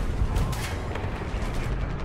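Tank machine gun fire in War Thunder from a Puma infantry fighting vehicle, a dense continuous rattle of rapid shots with low booming rumble, steady and loud throughout.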